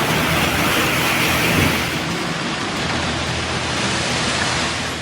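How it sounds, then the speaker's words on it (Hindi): Heavy monsoon rain pours down steadily in Jaipur, Rajasthan, a dense, loud, unbroken hiss of water falling on streets with no voices. "मॉनसून की एंट्री के साथ ही राजस्थान में तेज बरसात का दौर जारी है"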